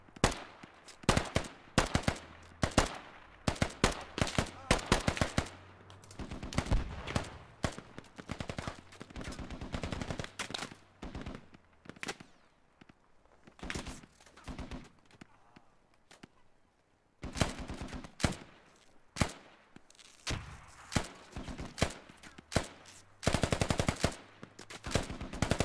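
Automatic and single gunfire in the military shooter game Squad during an airfield defense at Yehorivka, with dense bursts of rapid shots, short pauses, then renewed heavy firing near and loud.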